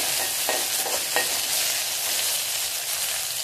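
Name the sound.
moong dal sautéing in oil in a pan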